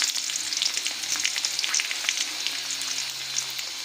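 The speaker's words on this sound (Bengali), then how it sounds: "তেলটা আমাদের গরম হয়ে গেছে। এতে এবার আমরা দিয়ে দিচ্ছি কালো জিরে, তার সাথে দিয়ে দিচ্ছি বেশ কিছুটা রসুন" Black cumin, garlic and dried chilli fry in hot oil, crackling and spattering densely and close up in an unbroken sizzle with scattered sharp pops.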